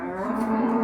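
A cow or buffalo at a rural cattle market moos in one sustained, loud, close low call that fills the short moment with no talk over it.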